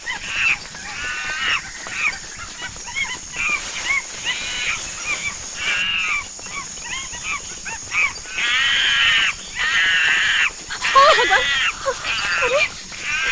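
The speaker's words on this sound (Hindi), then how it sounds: "ये बंदर इतने चिल्ला क्यों रहे हैं?" Harsh, repeated cawing bird-like cries that fit monkeys screaming, overlapping in loud bursts throughout, mixed with people talking excitedly.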